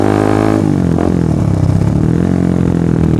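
A motorcycle fitted with a long Purbalingga exhaust runs close by in a residential area, its steady low engine drone shifting pitch briefly early on, then settling into an even, mellow rumble.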